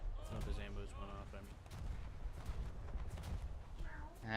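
Ship's ammunition cooks off in a naval combat video game, giving a series of booming explosions and rumbling blasts beneath someone talking.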